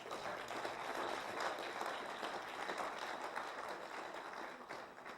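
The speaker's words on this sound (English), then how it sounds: "Give her a round of applause." An audience breaks into sustained applause, many hands clapping steadily for several seconds at moderate, slightly distant volume.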